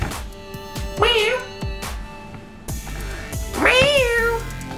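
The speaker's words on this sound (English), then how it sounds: "that's the cat that kept meowing when I was making my cooking video" A domestic cat meows twice, loud and drawn out with rising pitch, between soft thumps and household background noise.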